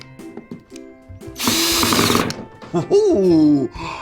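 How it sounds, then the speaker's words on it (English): A handheld power tool whirs loudly for about a second in a high buzzing burst, with someone speaking before and after it. "just out here on this beautiful day using power tools"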